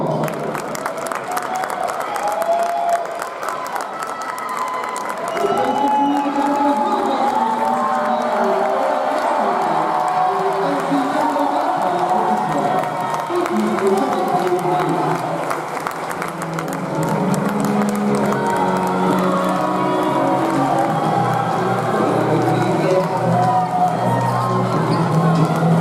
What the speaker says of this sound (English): Let's give all these outstanding student athletes a round of applause.